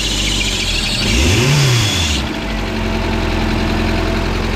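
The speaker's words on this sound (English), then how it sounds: "that is a good sound that the alternator is screeching" Turbocharged Honda EG hatchback engine started off a jumper box, running loud and close with a shrill alternator screech rising over the steady rumble, a sweeping tone in the first half before settling.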